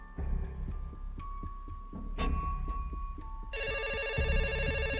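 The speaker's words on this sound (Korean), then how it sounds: "그렇게 며칠이 지난 어느 날 K 선생님의 집으로 또다시 전화가 걸려왔다" A telephone rings in a dark story setting, its electronic ringtone trilling steadily near the end over low rumbling background ambience and thumps, with no one speaking.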